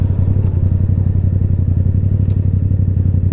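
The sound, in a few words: loud motorcycle engine while riding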